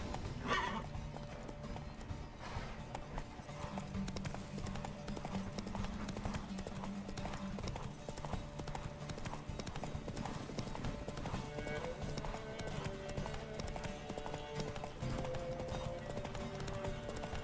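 A horse gallops in a race in The Witcher 3 video game, with steady rhythmic clip-clop hoofbeats throughout and a brief whinny near the start, over a faint musical background.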